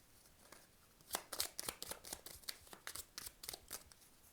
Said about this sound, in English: I need to shuffle up a bit.